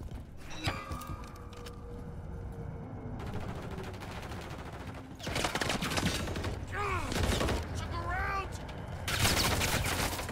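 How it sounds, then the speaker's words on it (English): Sniper rifle shots in Call of Duty MWIII ring out as sharp cracks amid quieter game gunfire, mechanical clicks and whooshing effects, all fairly faint in the mix. "Alright, we're gonna try this sniper"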